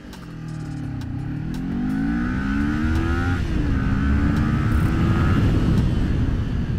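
A Kawasaki Ninja 400 motorcycle engine revs up from idle at a standstill, its pitch climbing and holding high as it accelerates, loud and close with no talking.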